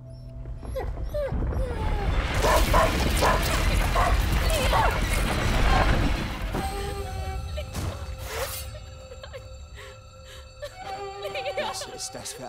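A dog whimpers in the video game A Plague Tale: Innocence, with soft whines mixed into a busy game scene of sloshing and whooshing sounds that fades into quieter ambience.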